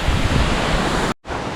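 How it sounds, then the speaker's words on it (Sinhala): Sri Lanka's tallest waterfall roars with heavy spray, a loud, close, broadband rush mixed with wind buffeting on the microphone, cut by a brief moment of near silence before the roar resumes. "මේ තමයි ලංකාවේ උසම දියඇල්ල. මෙතන හිටියාම නෑ වෙනවා. ඒ තරම් පින්න එනවා."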